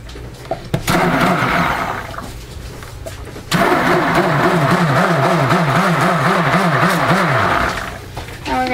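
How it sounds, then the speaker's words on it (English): A handheld stick blender whirs loudly through a batch of soap batter made from melted oils, running in a steady burst, pausing briefly, then running again with a wavering motor pitch. "I'm going to use my stick blender to finish."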